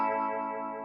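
Electric guitar with its humbucker coils in parallel, played through a Warm Audio Mutation Phasor II phaser, gives a bright, chimey held chord with a gently swirling sweep across a brief, steady sustain.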